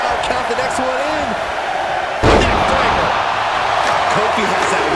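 Arena crowd in WWE 2K23 during a men's Royal Rumble match, a dense continuous roar that swells sharply midway into louder cheering, with a commentator talking over it.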